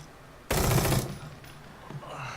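A short, loud burst of gunfire from The Evil Within 2, lasting about half a second, then a low rumble and faint noise trailing off.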